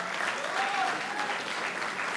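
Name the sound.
audience applause for director Sarthak Singh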